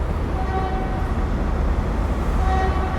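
Virgin Trains East Coast train 43295 arriving at York Station, bound for London King's Cross, gives a steady, loud low rumble of rolling stock with faint tonal whines threaded through, continuous for the whole stretch.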